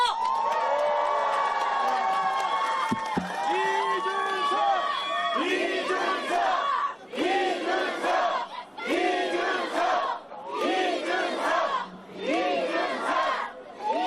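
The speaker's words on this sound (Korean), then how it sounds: "큰 박수와 함성 지금 주십시오" Crowd at a Korean election campaign rally in Dongtan shouting and cheering loudly in repeated surging waves, with an amplified voice calling out over the noise.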